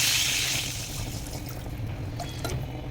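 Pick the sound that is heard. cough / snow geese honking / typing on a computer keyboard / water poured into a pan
water poured into a pan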